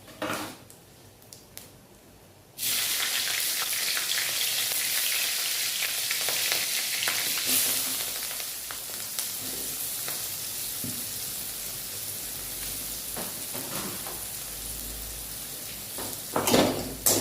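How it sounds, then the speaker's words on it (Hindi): Onions frying in hot oil in a kadhai for aloo gobi curry: a quiet start, then a sudden loud, sustained sizzle that stays steady and close, with occasional stirring clicks and scrapes. "ये देखिए दोस्तों, प्याज अभी फ्राई हो गया है।"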